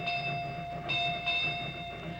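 A train runs steadily as a radio drama sound effect, a continuous rumble with rhythmic rail clatter and faint ringing tones.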